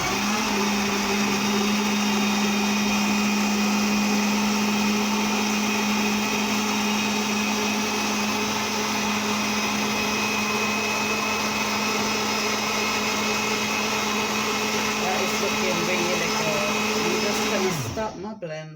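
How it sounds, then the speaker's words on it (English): A kitchen blender whirs continuously while blending strawberries, cherries and watermelon into a smoothie, a loud steady motor drone that holds for many seconds before winding down abruptly at the end. "I'm just going to switch my blender on and then start it blending."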